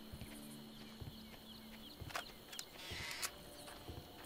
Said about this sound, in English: Kinda honestly could hear the footsteps.